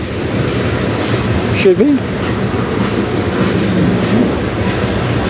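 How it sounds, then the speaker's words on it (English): CN M394 manifest freight train led by locomotives CN 3899 and CN 2843 rolling past on the Strathroy Subdivision, a steady broad rumble of passing cars throughout with a brief squeal and a short remark spoken partway. "This will be my last train today."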